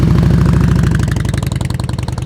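A motorcycle engine runs at low RPM during slow-speed riding practice, a steady loud throttle-held putter that loosens into uneven pulsing chugs toward the end, with no talking.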